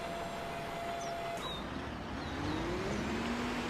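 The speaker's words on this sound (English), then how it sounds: "I'm going to have to move the digger" A digger engine rumbles steadily while being driven in the video game Construction Simulator, a low continuous drone with a faint rising tone near the end.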